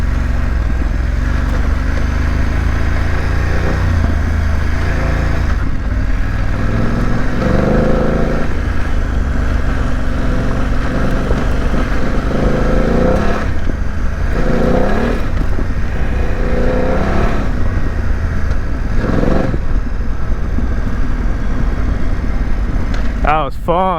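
A BMW F900GS motorcycle riding a dirt road near Old Mill Creek Road in Tennessee: continuous engine drone with rises and falls as it accelerates, under heavy wind rumble, with a rider talking over it at times.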